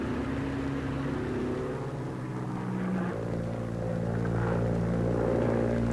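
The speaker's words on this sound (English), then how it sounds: "one of our aircraft, an Avenger, returns with a missing left wheel and makes a safe landing." WWII Avenger propeller aircraft with a missing left wheel landing on an aircraft carrier, a steady droning engine with strong low harmonics that shifts pitch midway, loud and continuous without speech.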